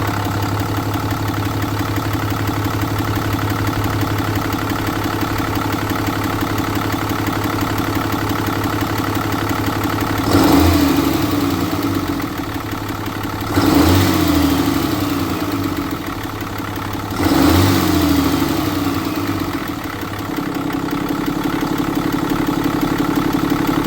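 A 3rd gen Ram truck's diesel engine, rated at 350 horsepower and 650 lb-ft of torque, idles with a steady clatter and is blipped up in revs three times, each surge rising and falling before settling back to idle.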